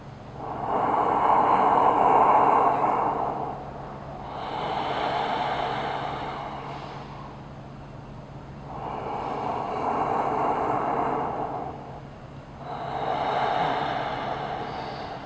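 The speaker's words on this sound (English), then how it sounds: "that's how you're going to do this breathing, Ujjayi yoga breathing" Ujjayi yoga breathing through a closed mouth, four slow breaths with long hissing, ocean-like inhales and exhales, close and clear, rising and fading in a steady rhythm.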